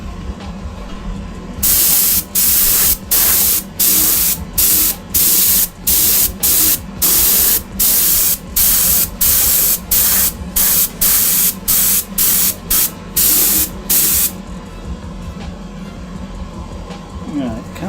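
An airbrush base-coats Greek-style vases in a rapid series of about fifteen short, sharp hissing spray bursts, closely spaced and loud over a faint steady background hum.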